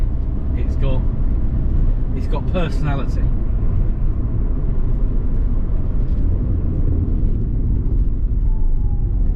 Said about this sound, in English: It's a pretty basic diesel engine, but it works really well